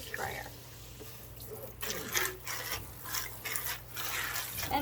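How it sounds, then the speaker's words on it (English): A sink sprayer gives rabbit fodder one or two quick, gentle rinsing passes, making short hissing bursts of water over a faint steady background. "just 1 or 2 quick passes with the sprayer"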